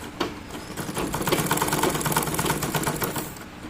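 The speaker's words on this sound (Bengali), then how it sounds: "একদম কোনা পর্যন্ত সেলাই করে নিয়ে আসতে হবে।" A domestic sewing machine stitches a binding strip on a nightie right up to the corner, a fast, steady clatter of needle strokes, close and continuous with no talk.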